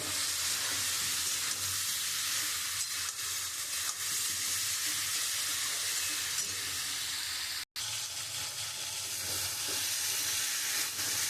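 Masala spices with turmeric and cumin powder sautéing in a pan for an egg curry with potatoes and pointed gourd, a steady close frying sizzle with stirring scrapes and one brief dropout.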